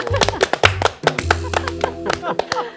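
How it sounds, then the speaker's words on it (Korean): Short bursts of hand clapping from a few people, ragged and uneven, in quick spurts with pauses between. "박수 쳐드릴까요? 박수."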